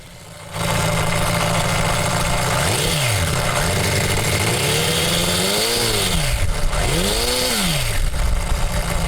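A Honda Monkey motorcycle fitted with a custom four-cylinder CD125-based engine starts and runs loud and close, settling into a steady buzzing idle with repeated throttle blips that rise and fall in pitch, and no voices.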